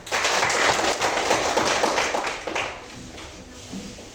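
A fifth-grade class claps together in a classroom, a brisk burst of many hands that fades and trails off into a few scattered claps.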